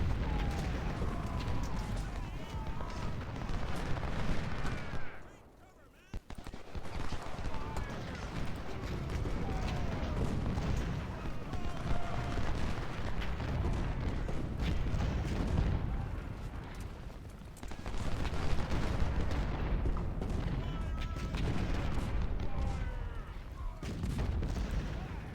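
Dense, continuous battle noise from Ultimate General: Civil War, with 24-pounder artillery and gunfire rumbling and cracking almost without pause at moderate distance, briefly dipping around the fifth second before resuming.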